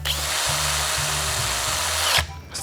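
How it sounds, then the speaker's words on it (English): A close, loud power drill boring holes through a small wooden finger skateboard deck, whining steadily with a few brief dips in pitch, then stopping near the end. "we just got to drill the holes now"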